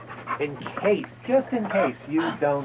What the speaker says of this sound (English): Oh, the dog is here.